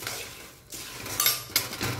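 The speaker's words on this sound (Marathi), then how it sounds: "आता हे चुरमुरे टाकणार आहे याच्यामध्ये. अजूनही फोडणी गरम आहे हे बघा. आणि आता एकदा फिरवून घेऊया ते." Puffed rice stirred in a kadhai with hot tempering for bhadang chiwda, close metallic scraping and clinks of a spoon against the pan in short irregular strokes, no talk.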